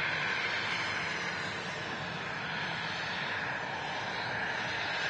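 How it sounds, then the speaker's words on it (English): An Icelandair airliner departing Manchester Airport roars with a steady, broad engine rumble that stays loud and unchanging throughout, heard without voices. "Icelandair heading back to Reykjavik. Beautiful aircraft."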